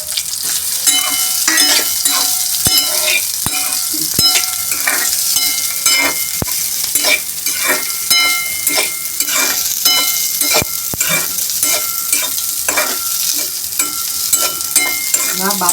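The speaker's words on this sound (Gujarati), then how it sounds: "હવે આપણે અહીંયા ઘી ગરમ કરવા મૂક્યું છે, તો ઘીમાં આપણે એને સાંતળી લઈશું." Boiled sweet corn kernels sauté in hot ghee with a loud, constant sizzle, broken by repeated clicks and scrapes of a spoon stirring against the pan.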